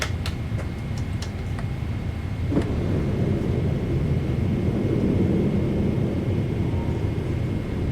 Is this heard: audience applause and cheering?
no